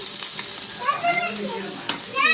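Mutton fat frying in hot oil with onion gives a steady, close sizzle, while faint voices and children's chatter carry on in the background.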